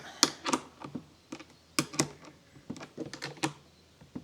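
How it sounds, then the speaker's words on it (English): A ratchet spanner tightens bolts while a 200-litre Gorilla dump cart is being assembled, giving a series of close, sharp clicking bursts in irregular clusters with short pauses between them. "I'm just using a ratchet spanner here, which does make this whole job much, much easier"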